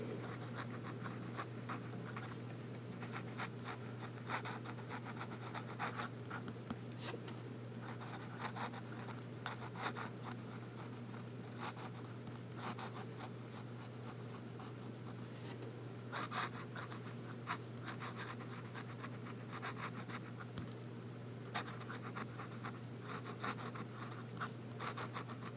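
A Yiren fountain pen nib scratches and glides across paper in short irregular strokes, faint and close, over a low steady background hum.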